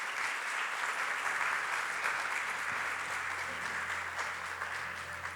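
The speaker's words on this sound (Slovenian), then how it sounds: "Prosim za še en lep aplavz." An audience claps warmly after a gong sound-therapy performance at a Terme Olimia evening event, with a thick, even wash of applause from many people that holds steady and eases slightly toward the end, with a low hum underneath.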